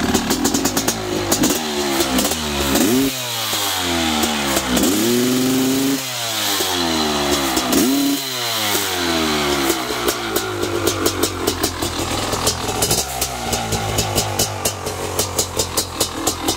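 A large dirt bike's engine roars through several loud, close throttle blips with a prominent intake honk, then settles into a choppy, crackling idle with sharp popping pulses.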